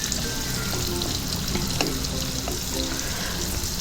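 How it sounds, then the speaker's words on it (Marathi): Finely chopped onion, medium-sized, fries in hot oil in a kadhai with a steady dense sizzle, while soft clicks and scrapes of stirring come through now and then. "एक मीडियम आकाराचा कांदा अतिशय बारीक चिरलेला त्याला एक ते दीड मिनटं सोनेरी रंग येईपर्यंत फ्राय करून घ्यायचा आहे"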